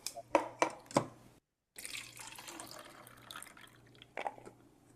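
Walnuts are rinsed under a running tap, with a few sharp splashing knocks, a brief pause, then steady flowing water and dripping, close and fairly quiet with no talk.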